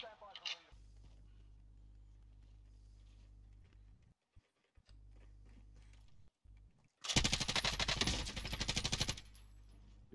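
Rapid automatic gunfire bursts in the video game Call of Duty Warzone, loud and close for about two seconds after a stretch of low hum and faint mechanical clicks.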